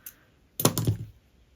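Scissors snipping through crochet yarn, a faint tick followed by a short close double snip, quiet and alone.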